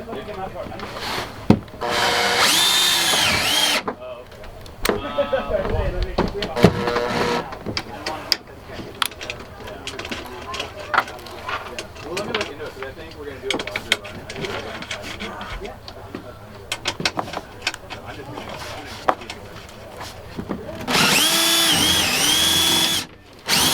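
A power drill drives screws into wall panels inside an Adventure Wagon van, with two close, loud whirring bursts near the start and end separated by quieter handling noise and some talk.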